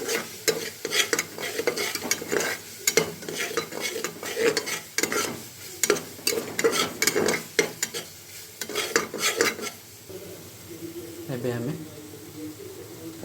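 Turmeric powder being stirred into frying Odisha dalma, with a spoon scraping a pan in rapid irregular strokes over a soft sizzle; a voice talks briefly near the end.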